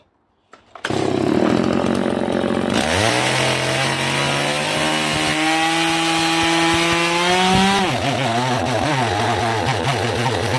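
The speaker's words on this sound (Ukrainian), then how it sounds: "і ще це розпиляю теж бензопилкою" A chainsaw starts, revs up, then bites steadily into a thick oak log with a loud, sustained whine, its pitch dipping and rising as it cuts.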